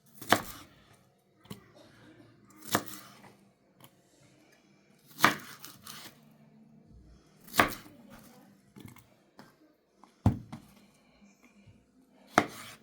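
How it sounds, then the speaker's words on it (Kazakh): A knife chops shashlik ingredients finely on a board, a few sharp irregular cuts spaced a second or two apart, close by and fairly quiet, with no talking. "Тағы да ұсақтап тураймыз."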